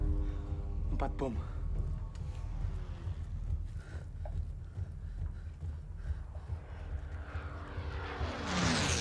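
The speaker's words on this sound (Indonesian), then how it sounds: "Pesawat." A military airplane in an Indonesian war film approaches as a low rumbling drone, building louder toward the end amid other busy battle noise.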